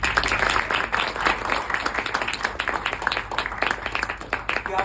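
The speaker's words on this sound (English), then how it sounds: "Can you all please clap for TEDx?" An audience claps for TEDx at a talk on dance for disability, a dense, steady round of hand claps that holds for several seconds, fairly close and loud.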